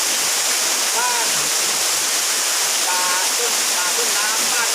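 Lan Thong waterfall in a forest in Surat Thani, Thailand, rushes as a steady, loud, broadband roar throughout, with faint bird chirps rising above the constant water noise.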